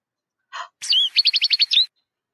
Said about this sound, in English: I think that might be, goldfinch?